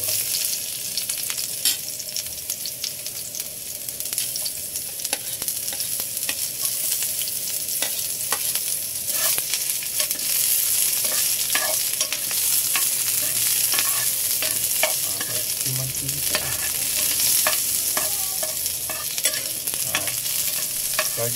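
Onion sautéing in hot oil in a pan for a Filipino sardine dish gives a steady close sizzle and frying hiss with occasional stirring clicks, continuous throughout with no talking.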